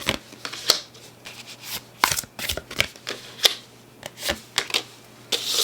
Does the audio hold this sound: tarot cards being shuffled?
yes